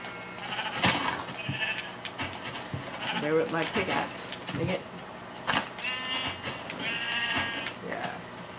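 Sheep bleating in the video game Minecraft on Xbox, a few short bleats recurring through the clip under a player's casual talk and game sounds.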